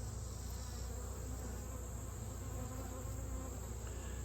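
Honeybees at a hive make a continuous low, droning buzz, faint and even, with no pauses or voices.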